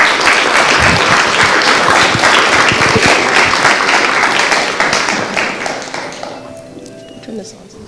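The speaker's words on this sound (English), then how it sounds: "Can I give a warm round of applause?" An audience at the HackRPI XII hackathon opening ceremony gives a loud, dense round of applause and cheering for the next speaker, fading out over the last two seconds as a voice begins.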